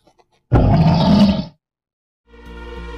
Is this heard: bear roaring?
yes